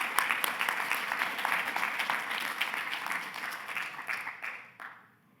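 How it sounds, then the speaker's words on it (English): A conference audience claps in a sustained round of applause that holds steady and then tapers off to quiet at the end, with no speech over it. "Let's give them a round of applause."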